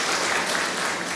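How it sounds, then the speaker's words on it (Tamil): A Tamil lecture audience breaks into sustained applause, a dense and even patter of many hands clapping together at moderate loudness. "அந்த பிள்ளைக்கு நல்ல ஒரு கைத்தட்டல் கொடுங்களேன்."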